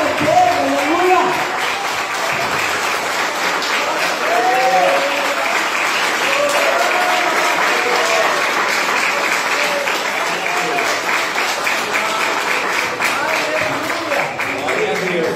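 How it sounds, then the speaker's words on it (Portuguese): A church congregation gives a long, loud round of applause during a worship service, dense sustained clapping from many people throughout, with voices and cheering mixed in. "dar o melhor aplauso que você puder para Jesus"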